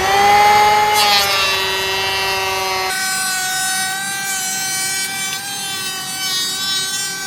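Power planer cutting a bevel along a wooden door edge, a steady high motor whine with a harsh rasping cut that drops in pitch partway through and then runs on evenly.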